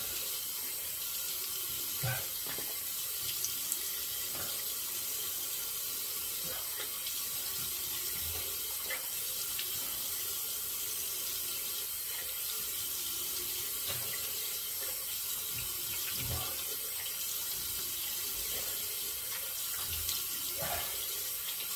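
Tap water runs steadily into a sink as a face is rinsed after a shave with shaving cream and a Merkur 44C razor, a close, continuous splashing rush with occasional louder splashes of water.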